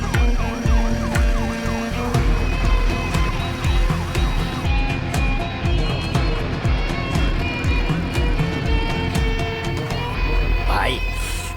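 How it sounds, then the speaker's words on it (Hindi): A wailing ambulance siren rises and falls continuously over a busy, rumbling traffic background, loud and close, with voices mixed in, from a film. "एक एम्बुलेंस कुल्लमवाड़ी एरिया में काफी देर से घूम रही है"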